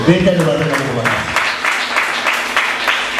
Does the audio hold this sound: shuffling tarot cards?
no